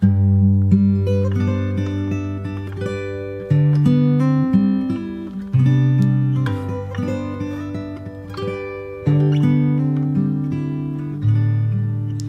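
Fingerstyle acoustic guitar plays the closing passage of a song from Aladdin, a repeating two-bar melody of plucked notes over bass, played solo and clear at moderate loudness with no voice.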